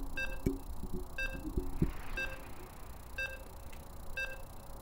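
StarCraft II match countdown: a sequence of short, evenly spaced electronic beeps about once per second, moderately loud over a low game-ambience rumble, with a few thumps near the start.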